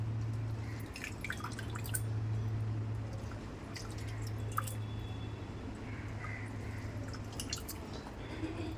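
Water drips and squishes out of soaked dahi vada being squeezed by hand, faint close-up droplets and soft wet squelches over a low steady hum.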